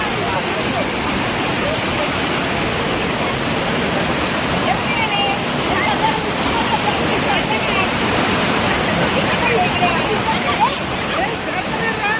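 Amboli waterfall roars in a dense, steady rush of falling water, loud and close, filling the whole stretch without a break; faint voices sit buried beneath the torrent.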